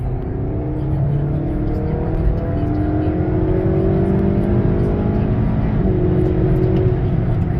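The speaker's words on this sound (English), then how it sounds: "Do a quick 50 roll in 4th gear, and here we go." Steady, loud engine drone from a 2018 Honda Accord 2.0t with a K&N drop-in filter, rolling on the throttle in 4th gear from inside the cabin, its tone climbing gradually over several seconds.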